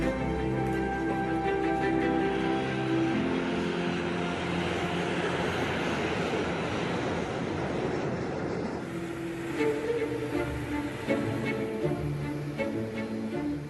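An airplane at Heathrow Airport roars steadily with a loud, close jet engine drone and whine that shifts in pitch partway through, with no talking.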